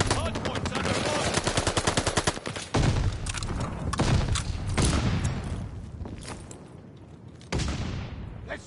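Close automatic gunfire around a hardpoint in a Call of Duty Vanguard ranked match: a fast burst of rapid shots, then scattered heavy single shots and bursts with short pauses, loud and near.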